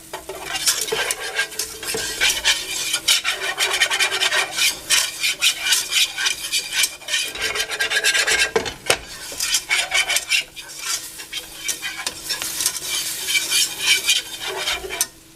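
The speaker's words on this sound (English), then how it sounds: "And we gotta make a roux. So you gotta make a roux like a gravy. So you gotta keep stirring this bad boy." A roux is stirred steadily in a pan, the spoon scraping and rasping against the metal in a continuous, busy rhythm with brief knocks, close and fairly loud for about fifteen seconds.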